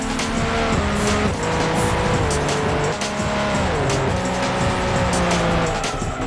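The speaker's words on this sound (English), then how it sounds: "You are looking at the TVR Speed 12, a car so fast and furious it was never released to the public." A TVR Speed 12 engine in a video game roars loudly and continuously, pitch climbing and dropping through gear shifts, with tire squeal and road noise mixed in.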